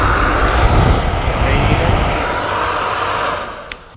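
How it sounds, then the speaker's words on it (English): A Ducati Panigale's radiator cooling fan spins inside its duct, pulling air through the low radiator and blowing it out underneath, making a loud, steady whoosh that eases slightly toward the end. "when you kick the fan on, it pulls air through the low radiator and evacuates it underneath here"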